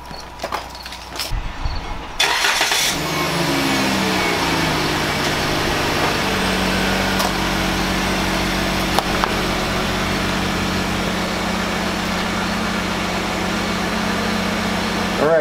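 Car idling and rolling over an OrcaTorch T20 flashlight placed under its wheel, a short scrape and crack early on, then a steady engine idle holding close and loud.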